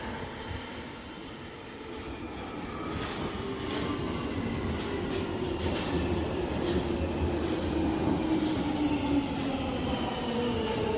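London Underground Jubilee Line 1996 stock train heading from Stanmore toward Wembley Park, a steady loud rumble of wheels on rail with rising motor whine and faint clickety-clack, heard from the cab with no talking.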